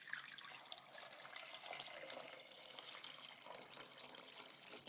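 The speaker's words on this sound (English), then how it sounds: "the simmering pot, you just add your water to it" Water pours in a steady, soft trickle into a simmering pot for a home scent, running continuously and fairly faint for several seconds with no talking.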